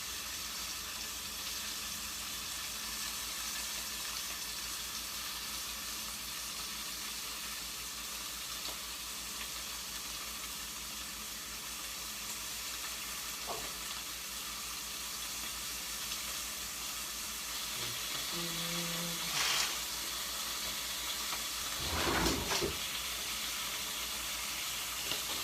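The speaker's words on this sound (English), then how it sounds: "now that we got our bacon in the pan" Bacon sizzles in a pan with a soft, continuous frying hiss at low volume, with a few brief clinks and clatters near the end.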